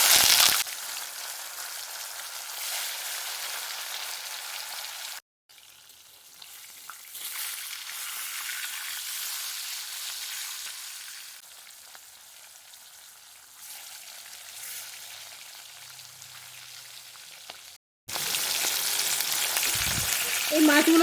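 Steady hissing sizzle of fish frying in oil in a pan, broken by short cuts, with brief softer stretches and a louder burst at the end.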